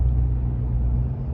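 Diesel truck engine, deleted and tuned, rumbling at a steady idle with a deep low-pitched drone, close and loud, no other sounds.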